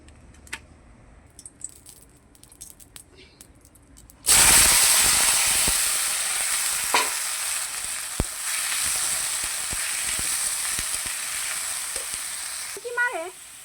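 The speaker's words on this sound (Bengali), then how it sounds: "এটা এখন কড়াতে দিয়ে ভেজে নেব।" Bitter gourd and potato pieces hit hot oil in a kadai after a few quiet seconds with faint clicks. A sudden loud, sustained sizzle follows with scattered spatter pops and light scrapes.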